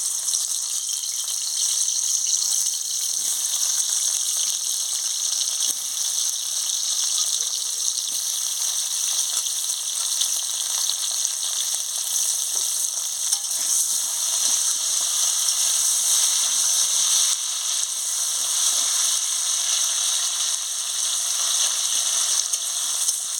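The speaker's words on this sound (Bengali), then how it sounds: "তেল গরম হয়ে গেছে, আলুটাকে একটু ভালো করে ভেজে নেব।" Potatoes frying in hot oil, a continuous loud hiss and sizzle that holds steady throughout with no talking.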